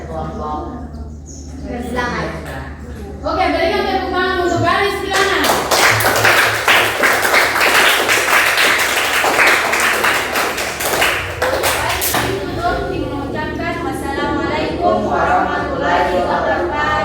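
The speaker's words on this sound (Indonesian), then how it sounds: "berikan tepuk tangan untuk garis bilangan" Classroom applause from students breaks out for a group during a math lesson on number lines, a bright burst of clapping in the middle, with children's voices and chatter before and after.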